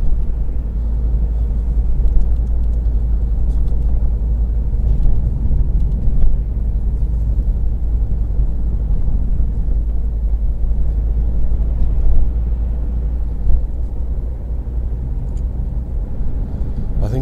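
Steady low road rumble and engine drone from inside a car cruising at 40 mph along a seafront road between Dover and Margate, constant and loud throughout.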